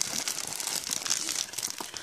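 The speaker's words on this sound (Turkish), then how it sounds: "Bu poşeti de tekrar açalım." A plastic bag holding e-liquid bottles is opened with continuous close, crisp crinkling and rustling of thin plastic that lasts the whole moment, no talking over it.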